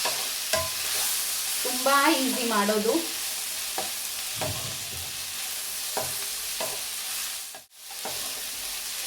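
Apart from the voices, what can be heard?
garam masala tempering frying in pan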